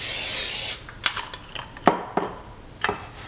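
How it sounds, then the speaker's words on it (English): A short hiss of cooking oil spray opens, followed by several light taps and scrapes of chickpeas shifting in a pan. "I'm going to spray the other side of the chickpeas."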